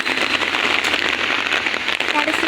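Heavy rain pours steadily on surfaces during an evening walk near a college gate, a dense continuous hiss close by with a voice speaking over it.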